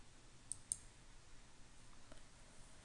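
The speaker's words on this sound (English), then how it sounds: "Now click on the Save button." Two quick mouse clicks on a Save button in Microsoft Project 2013, faint and close over a quiet room hiss.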